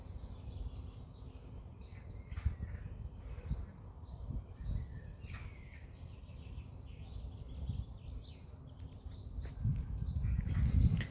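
Faint, scattered bird chirps sound at a distance on the Stirling University campus over a steady low outdoor rumble, with no talking.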